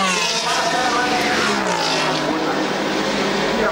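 Race car finishing its lap of honour at the Monza circuit during a GT Open race, a loud sustained engine roar rising and falling in pitch as it passes close by, filling the whole stretch.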